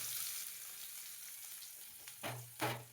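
Mustard seeds, cumin and onion sizzle in hot oil, a soft steady frying hiss with two brief louder crackles near the end as the ingredients are stirred.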